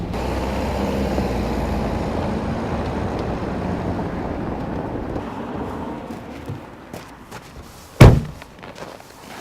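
A car with fabric snow socks fitted on its tyres rolls slowly over a short stretch of road, giving a steady low rumble that fades, then a single loud thunk near the end.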